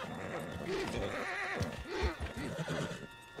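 A horse in the Red Dead Redemption video game whinnies and clip-clops, with the hooves thudding in an uneven rhythm under a steady background, with no clear speech.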